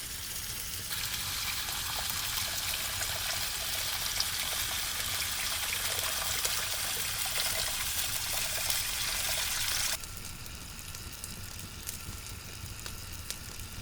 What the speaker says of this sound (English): We add our meat to the pan and we almost cover it with water